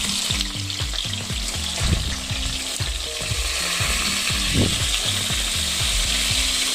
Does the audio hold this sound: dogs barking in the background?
no